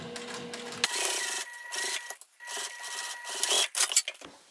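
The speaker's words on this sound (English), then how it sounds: "so I'm going to sew it this way" A sewing machine stitches a fabric pouch, running in several bursts of rapid, even mechanical whirring with brief pauses between them, close and clear with no talking.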